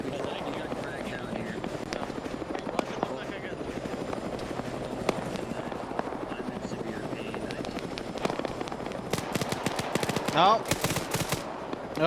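Gunfire in Arma 3 crackles in scattered shots and rapid bursts over the steady drone of a helicopter, with a denser volley near the end, while people talk over the radio.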